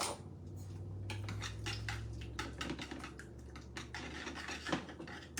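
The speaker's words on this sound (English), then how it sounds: "Now, I'm gonna get a whisk, and I'm gonna whisk this all together." A whisk beating ranch dressing in a bowl, quick scratchy metallic clicks and scrapes repeating at a brisk uneven rhythm, close and fairly quiet.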